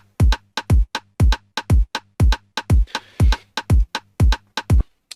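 Punchy electronic rhythm loop of sharp percussive hits with deep pitch-dropping kick-like thumps, shifted a sixteenth earlier so the pattern lands ahead of the beat, playing alone in a tight, syncopated pattern.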